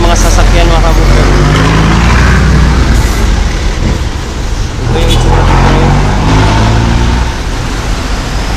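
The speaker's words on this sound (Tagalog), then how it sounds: "Buhol-buhol yung traffic." Heavy, congested traffic on a narrow road near a flyover construction site in Davao, a loud continuous roar of car and truck engines close by, steady throughout with a brief air-brake hiss.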